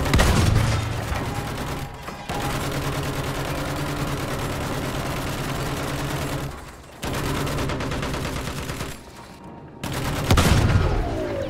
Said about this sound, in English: Look at this guy shooting machine guns at us.